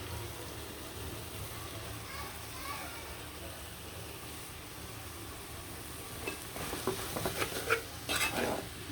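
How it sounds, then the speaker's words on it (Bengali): Chopped leafy greens are stirred through a hot, spiced pan, giving a steady close sizzle with soft scraping strokes that grow louder and busier near the end. "শাকগুলো দিয়ে খুব সুন্দরভাবে একটু লাড়াচাড়া করে দেবো"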